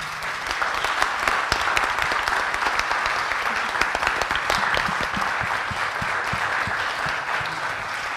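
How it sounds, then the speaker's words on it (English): Steady, dense applause from a seated audience at a relationship panel event in Byron Bay, sustained and even throughout with no pauses or speech over it. "have a round of applause for a really lovely contribution?"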